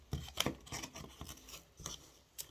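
Scissors or shears cutting through scrap material to make drink coasters, a run of faint, close snips and rasps in an uneven rhythm, heard alone without talk.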